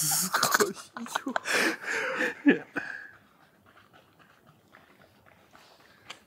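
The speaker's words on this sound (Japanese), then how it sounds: "朝に吠えられるのも多分モーニングルーティーンなんでしょう" A dog barks in the morning, with sharp, fairly close barks mixed with people talking in the first half, then only faint scattered sounds.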